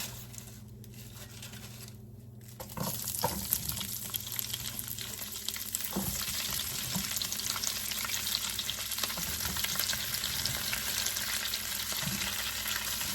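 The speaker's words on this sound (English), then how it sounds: "I do not want the butter to burn, so I am going to go ahead and add our cabbage." Shredded cabbage dropped into hot butter in a pan for Creole sautéed cabbage with bacon: a quieter buttery bubbling first, then a sudden surge into a loud, continuous sizzle with occasional stirring scrapes, close by and without talk.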